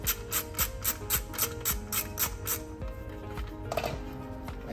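A wrench loosens a 10 mm bolt on a Tesla Model 3 seat frame, producing a close, steady run of rhythmic ratcheting clicks over faint mechanical rubbing, slowing slightly toward the end.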